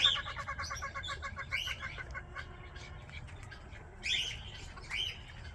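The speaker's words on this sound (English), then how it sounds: "These people have so many birds. In fact, chickens are" Birds in the Appalachian countryside, chickens among them, chirp and squawk in short bursts, with clusters of calls near the start and two louder ones later, fairly close over a low background hum.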